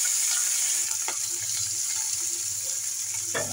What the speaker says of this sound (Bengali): মাছগুলো ভালো করে আমি ভেজে নেবো।